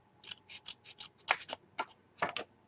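Scissors snipping paper scraps for a scrapbook mini album, a quick series of close, crisp cuts in an irregular rhythm, with no talking.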